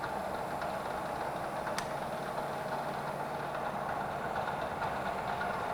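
Metal lathe running steadily while turning a workpiece, a constant dense mechanical hum and whir with a faint tonal drone and an occasional tick, no speech.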